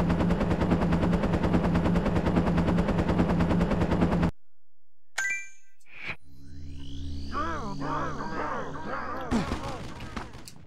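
Rapid automatic gunfire from the Army Men: Major Malfunction video game rattles continuously for several seconds, then stops; after a pause come electronic game effects and scattered bursts, with a player voice faintly underneath.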